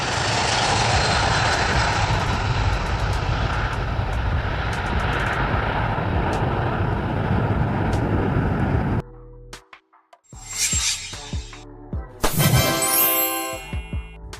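A loud, steady jet engine roar from an Ilyushin Il-76 aircraft fills most of the clip, then cuts off abruptly, followed by scattered clanks and bursts of noise.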